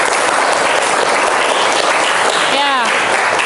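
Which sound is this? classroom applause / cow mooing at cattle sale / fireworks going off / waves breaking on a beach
classroom applause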